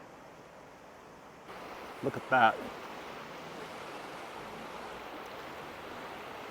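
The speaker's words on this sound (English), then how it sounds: "That's fast moving water for this river." Fast-moving river water running high in late winter, a steady broadband rush that continues for the whole stretch, rising in level partway through, with a brief spoken remark over it.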